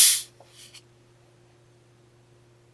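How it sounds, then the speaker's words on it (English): A Dr Pepper soda can popped open: a single sharp, close crack and fizz burst at the start, followed by a brief faint hiss, then near silence with a low steady hum in the background. "what you're hearing is the sound of a Dr. Pepper being opened"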